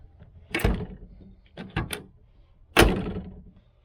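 The door of a freshly painted 1978 Chevrolet El Camino SS being reassembled is pushed shut in three separate solid knocks, the last one the heaviest, close by and quiet otherwise.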